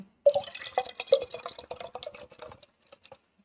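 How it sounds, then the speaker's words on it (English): Rest of a can of Monster energy drink poured out, a short run of close liquid drips and splashes falling into a vessel, trailing off into scattered drops. "pouring out the rest of my monster"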